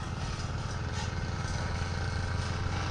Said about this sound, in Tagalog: si Tolentong muna ang nag-grass cutter.